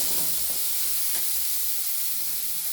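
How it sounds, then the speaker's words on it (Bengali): Chopped medium tomato dropped into a pan of sizzling ground spice paste, giving a steady loud hissing fry that holds throughout with no voice over it. "টমেটো কুচি করে রাখা সেটাও দিয়ে দিচ্ছি, একটা মিডিয়াম সাইজের টমেটো"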